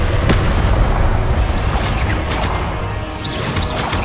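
Confringo blasting spells exploding in a Hogwarts wizarding game: a dense rumbling boom with crackling bursts and a few sharp pops, loud and close, rolling on without pause.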